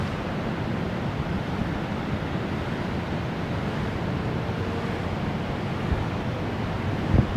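The James River flowing beside a floodwall, a steady, broadband wash of moving water with some wind rumble on the microphone, even and unbroken throughout, with no talk.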